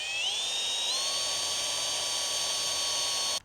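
A power drill driving pan head screws into an aluminum strap, a steady high-pitched whine that rises at the start, holds for about three seconds and stops abruptly.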